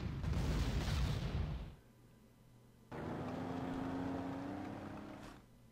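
Artillery firing in the WWII strategy game Panzer Corps, Operation Sealion at Bristol: two loud, rumbling booming shots, each decaying into a tail, separated by a brief quieter pause.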